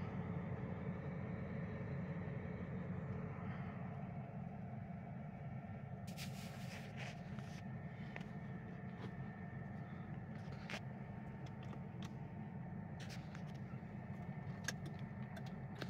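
Union Railroad freight train with coke cars passes at a distance, giving a steady low rumble and roll throughout, with occasional faint metallic clanks and squeals.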